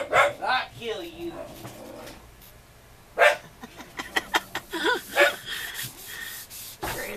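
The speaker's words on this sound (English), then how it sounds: "grandson messing with the dog" A dog barks, yips and whimpers in short bursts while a person talks nearby, with rustling and rubbing noises between the calls.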